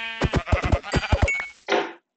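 Sheep bleating in a video game on a multiplayer server: a rapid run of quavering bleats followed by one shorter bleat, loud and close, with no talk over it.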